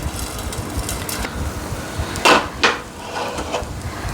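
A metal vessel lid is set down over a pan of ragi dosa, giving two sharp clanks close together over a quiet kitchen background.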